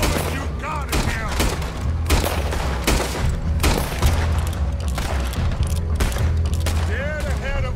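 Rapid gunfire in Red Dead Redemption 2, with dense volleys of shots and booming blasts throughout, loud and close, layered with shouting voices and game music.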